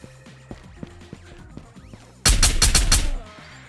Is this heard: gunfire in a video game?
yes